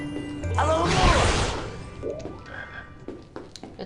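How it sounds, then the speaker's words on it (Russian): A frog chest croaks in the Harry Potter and the Prisoner of Azkaban video game, a loud, close, throaty croak with crashing and whooshing game effects around it. "Это лягушачий сундук."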